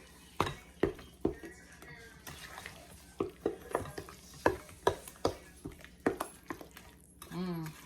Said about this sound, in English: A half a cup of your brown sugar. Okay. Mix that up in here.